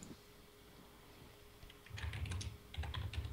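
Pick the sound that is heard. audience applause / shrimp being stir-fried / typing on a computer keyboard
typing on a computer keyboard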